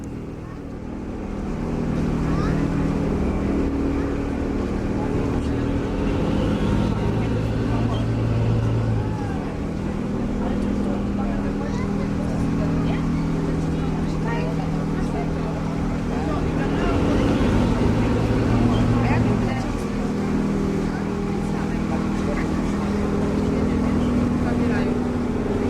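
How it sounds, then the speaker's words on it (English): Steady low rumble of a ferry boat engine churning on water in New York Harbor near Liberty Island, continuous and fairly loud, with faint voices in the background. "The ferry boat stops at Liberty Island before going on to Ellis Island."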